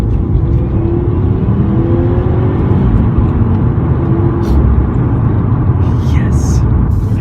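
A 2018 Subaru WRX STI makes a small launch, its engine droning loud and close as it pulls away steadily, with people talking inside the car.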